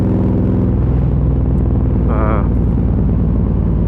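A KTM Superduke 1290 R motorcycle idles loudly and close after a cold start, its engine a steady, throbbing rumble with a brief higher-pitched rise partway through.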